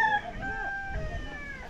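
Chickens clucking and crowing loudly and close by along a rural roadside, a short burst of overlapping calls with no talk over them.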